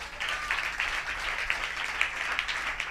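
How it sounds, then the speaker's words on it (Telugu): An audience at a religious talk claps together in a continuous run of applause, moderately loud, with no voices on top. "చప్పట్లు కొడదాం ఒకసారి."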